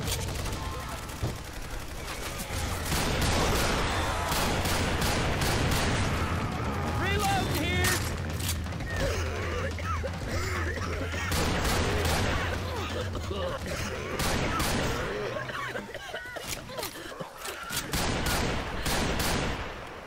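Rapid gunfire in Left 4 Dead 2, dense bursts of shots and clattering weapon sounds running throughout, mixed with a low humming drone and players talking over the fire.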